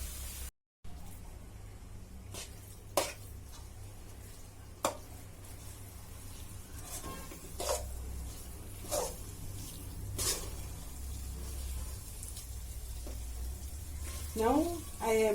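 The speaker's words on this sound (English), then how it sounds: "Now I am mixing this curry powder till it fries a little more" Curry powder frying in a tablespoon of oil over a lowered stove flame, a steady soft sizzle with several sharp scraping clicks of stirring, and a brief burst of crackling near the end.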